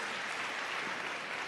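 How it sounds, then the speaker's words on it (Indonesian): Brief burst of congregation applause during a church sermon, dense steady clapping heard alone and fairly faint. "Tepuk tangan buat Tuhan Yesus."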